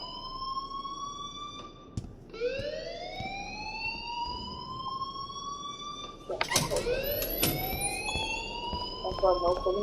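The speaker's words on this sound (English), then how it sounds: "please turn off that alarm since that's your job" Fire alarm in the video game Life Is Strange, repeated rising electronic whoops sweeping upward again and again, loud and close, with a burst of clatter partway through and voices talking under it.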